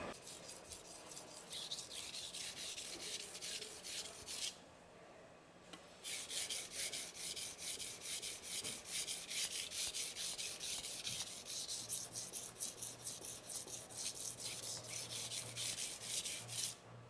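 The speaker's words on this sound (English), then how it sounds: "Now we'll finish it up with the whetstones." An Ashi stainless steel kitchen knife blade is sharpened on whetstones with rapid, rhythmic back-and-forth grinding strokes, close and steady, pausing once briefly before resuming with a faint low hum underneath.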